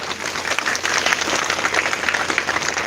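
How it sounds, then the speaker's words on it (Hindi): Loud, dense applause from a crowd, continuous clapping filling the whole stretch without pause. "मैं एक बार उनके लिए जोरदार ताली चाहूंगा पीछे तक।"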